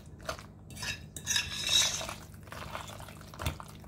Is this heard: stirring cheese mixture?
yes